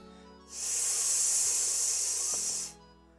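A voice imitates a snake's hiss, a single steady hissing 's' sound held for about two seconds, fairly close and alone, demonstrating the sound for a children's phonetics lesson.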